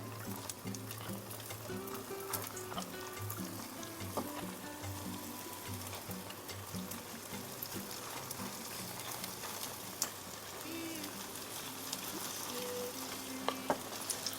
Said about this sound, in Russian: Обжариваю до красивого золотистого цвета с двух сторон.